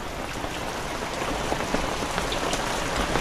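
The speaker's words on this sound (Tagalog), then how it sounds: "Grabe talagang ulan na ito." Heavy rain pouring steadily, a dense continuous hiss of drops pattering on surfaces close by, with no voices.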